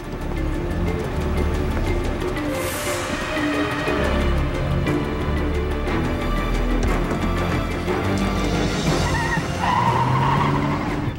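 A truck slides with squealing tires amid loud engine noise and rumble, with sharp, bright screeches at the start and again near the end of the stretch.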